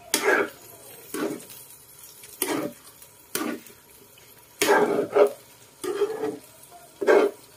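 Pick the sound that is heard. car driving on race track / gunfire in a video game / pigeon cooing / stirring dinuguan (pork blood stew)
stirring dinuguan (pork blood stew)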